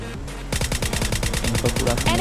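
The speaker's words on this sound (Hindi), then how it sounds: "यहाँ पे कार 98 का शॉट चलता है" Rapid gunfire rings out in PUBG Mobile Lite, credited to a Kar98 sniper rifle, a fast string of sharp loud cracks repeating steadily for about two seconds.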